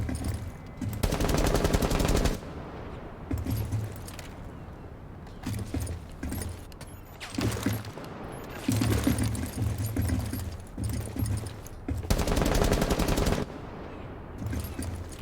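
DMR rifle fire in a first-person shooter game, delivered in several loud, sharp bursts separated by quieter gaps with softer mechanical clicks and game ambience.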